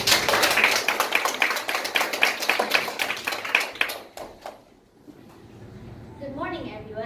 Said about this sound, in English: please give a round of applause to Japan by Hannah To